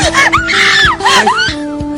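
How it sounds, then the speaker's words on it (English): A woman screams in a soap opera scene at a resort on an island, sustained high-pitched wailing cries rising and falling in several bursts, loud and close, with no speech over them. "It sounds like someone's screaming. It's a woman."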